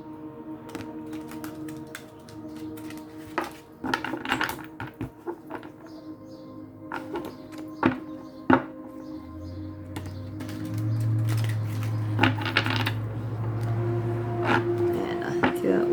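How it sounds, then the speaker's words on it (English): A deck of tarot-style cards being shuffled by hand, with intermittent riffles and soft slaps close by, separated by pauses, as a person speaks quietly and a low hum comes in midway. "I gotta shuffle these a few times."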